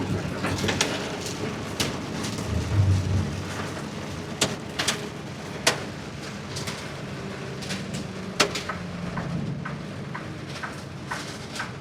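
A hailstorm with rain pelts a parked vehicle in a dense, steady hiss of impacts. Sharper, louder hail strikes crack through it at irregular intervals, and a low rumble swells briefly early on.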